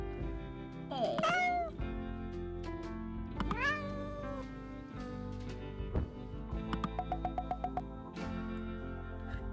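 A kitten meows repeatedly in a video game, several high, rising and falling cries close up against a soft tonal background, followed by a quick run of short, clipped chirps.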